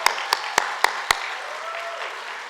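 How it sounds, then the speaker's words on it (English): Sparse claps ring out over a low crowd murmur at a governor's public project announcement, five sharp, evenly spaced hand claps in the first second, then only background hum. "Come on, let's clap it up for the governor."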